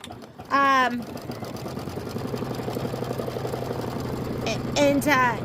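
Kimberbell embroidery machine stitching a tack-down line around a roll-up pouch, a steady rapid mechanical whir under soft talk, with brief high squeaky bursts at the start and end.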